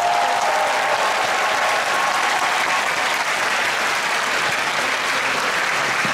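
Dense, steady applause fills a large audience at the 2022 Republic of Korea Navy patriotic concert, honoring the navy band and promotional troupe; loud and unbroken throughout, with no voices standing out.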